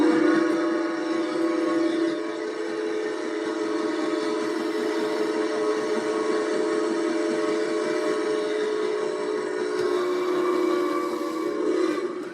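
A train whistle blows in one long, loud, sustained, multi-toned blast, with rail rumble underneath and no speech.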